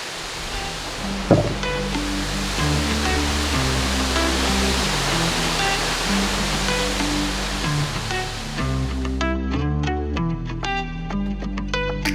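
Haew Narok waterfall in the Khao Yai forest roars as a loud, steady broadband rush of falling water, with music playing over it throughout.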